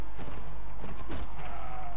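Horse hooves clopping in Mount and Blade Warband, a loose run of soft thuds over a constant low rumble of game ambience, moderately loud with no talking.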